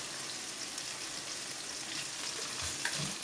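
Fried rice with dark soy sauce stir-fried in a pan, a steady broad sizzle with scraping stirs toward the end, close and fairly loud, no voices.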